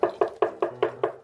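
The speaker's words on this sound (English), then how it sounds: "Someone at the door." Six firm knocks on a door, evenly spaced about a fifth of a second apart, close and loud with no talking.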